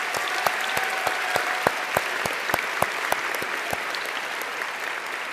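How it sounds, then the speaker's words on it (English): Audience applause at the 2014 George Mason High School commencement: a large crowd clapping steadily and evenly throughout, dense and sustained, with a few sharper single claps standing out near the front. "Now a round of applause."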